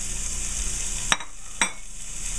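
Torn slices of prosciutto ham sizzle steadily in a lightly oiled pan, a constant close hiss broken by two sharp utensil knocks against the pan in quick succession.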